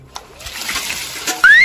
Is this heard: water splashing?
yes